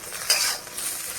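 A pan of food lightly frying with turmeric and salt gives a brief, soft sizzle with a quick stir near the start, quiet and close.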